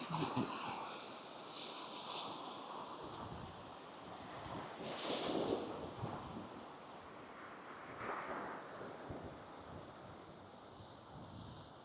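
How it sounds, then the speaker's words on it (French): Gusty cold wind buffets the microphone in a continuous rushing roar at the seaside in Palomares, Spain, with the low wash of sea surf underneath, no voices. "Toujours du vent froid là."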